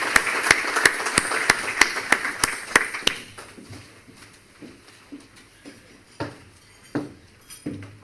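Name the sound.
audience applause at a breakfast event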